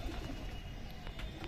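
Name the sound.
small Teddy pigeon cooing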